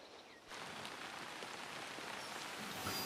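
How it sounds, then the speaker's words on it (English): Steady rain pattering on a hard surface, a soft, even hiss with no voices. "Oh, it was raining."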